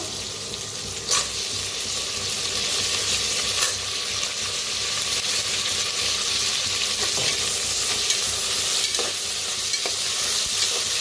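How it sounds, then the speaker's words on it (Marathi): Potatoes dropped into a pan of lightly browned onion give a steady, close sizzle of frying, with soft stirring scrapes and a few brief clinks over the continuous hiss. "कांदा हलकासा भाजत आलेला आहे, त्याच्यातच टाकूया बटाटो"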